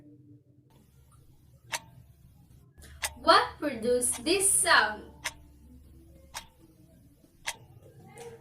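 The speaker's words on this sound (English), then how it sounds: "It is a clock." A clock ticks with sparse, sharp clicks spread across the stretch, clearly audible against a quiet background, while a voice asks a question in the middle.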